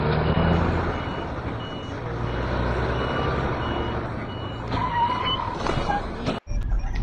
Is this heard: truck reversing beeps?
yes